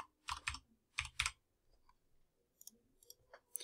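Keys on a computer keyboard clatter in short quick bursts, a few crisp clustered taps followed by lighter scattered presses, close and clear with no talking.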